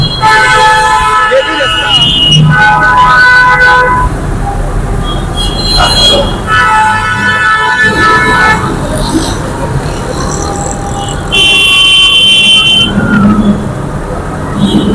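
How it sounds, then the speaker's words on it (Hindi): Heavy road traffic in Islamabad during a protest with roads blocked, with engines rumbling close and repeated car horn toots sounding in bursts while someone talks throughout. "इस्लामाबाद से आने वाली ट्रैफिक थी उसमें काफ़ी रश पड़ गया है"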